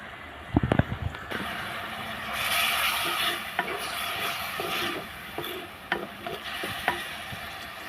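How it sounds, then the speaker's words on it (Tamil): Chopped tomatoes sautéing in a pan with softened onions for a brinjal curry, a soft continuous sizzle broken by a few sharp stirring knocks and scrapes near the start and scattered later. "தக்காளி நல்லா குழைய வதங்கிட்டோம்."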